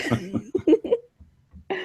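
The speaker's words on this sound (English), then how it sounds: "I had to cough, and I didn't want everybody to hear it" A few short coughs and breathy throat sounds come in quick succession nearby, followed by a brief quiet pause and another soft burst.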